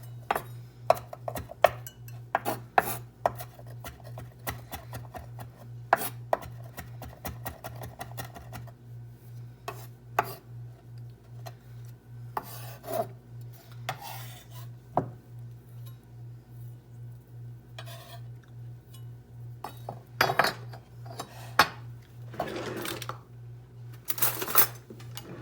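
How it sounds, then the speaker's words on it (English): Cilantro being chopped with a knife on a board, producing scattered sharp taps and clicks in irregular bursts over a steady low hum, with no talking. "And I've got some cilantro here that I got from Jackson's Orchard. And I'm just gonna chop it up."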